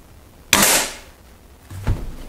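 A single sharp shot from a Weihrauch HW 30 S spring air rifle during target shooting, a loud close crack that decays quickly, followed by a softer thud or click about a second later.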